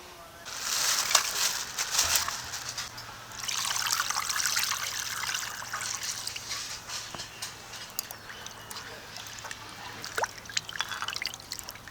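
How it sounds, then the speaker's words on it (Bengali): Water runs and trickles steadily while rohu fish is washed by hand, the splashing rising and falling in bursts over about twelve seconds, fairly close and moderately loud, with no talk. "তো এখন আমি রুই মাছটাকে প্রথমে ধুয়ে নেবো"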